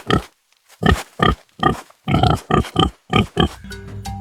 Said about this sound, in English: Oh, that's a pig.